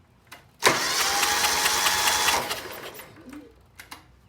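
The Kawasaki engine on a Toro Wheel Horse 520Lxi mower cranks for about two seconds with a steady whirring drone up close. A few faint clicks come before and after, and the engine does not start.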